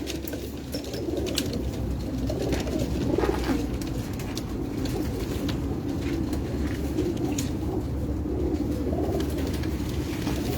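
Pigeons cooing on a rooftop among a kept loft of birds, a steady low murmur of coos running throughout with faint background noise.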